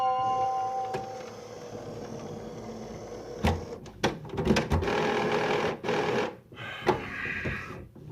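An inkjet-style printer starts up on its own, giving faint whirring and a run of clicks, clunks and mechanical shuffling that builds in the second half, with no talking.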